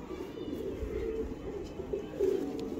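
Breeder pigeons coo nearby in soft, low, repeated throaty calls, with a louder coo near the end, over a quiet background of faint movement.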